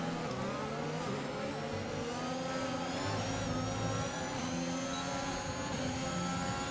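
A Ferrari Formula 1 car from the F1 2021 video game, racing at the Bahrain Grand Prix, holds a steady, loud, high-pitched engine whine that shifts slightly in pitch across the whole stretch, with no voices.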